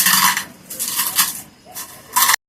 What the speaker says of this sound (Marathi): आता मी मॅशरने मॅश करून घेत आहे.